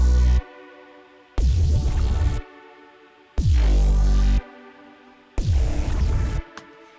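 Low part of an electronic music drop with a synth, four heavy pulsing bass-and-synth blasts in a steady stop-start rhythm, loud and close, with a sustained synth tone holding through the gaps.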